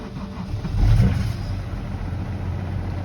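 A BMW E9X 3 Series engine cranks in second gear and catches with a rough, labored rumble, then settles into an uneven, strained running drone.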